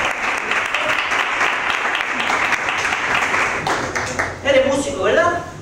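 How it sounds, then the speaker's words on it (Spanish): An audience applauds a volunteer called up from the crowd, a dense burst of clapping that runs steadily before a voice cuts in near the end. "¡Un aplauso para él!"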